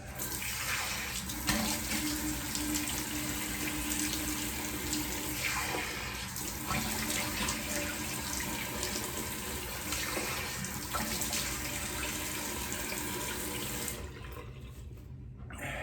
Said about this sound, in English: Excuse the running water noise.